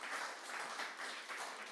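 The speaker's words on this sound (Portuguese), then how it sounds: "aplauda ao Senhor, glorifica o nome" A church congregation applauding during worship, a dense, even wash of many hands clapping at moderate distance, steady throughout.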